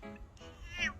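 A cat meows in a short, close burst of two or three rising and falling calls, loud and alone with no talk.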